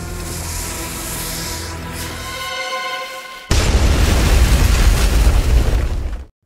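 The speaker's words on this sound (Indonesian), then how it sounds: "terjadi sebuah ledakan yang sangat dahsyat" A sustained tonal hum cuts out into a moment of near silence, then a huge explosion erupts and roars for about three seconds before stopping abruptly.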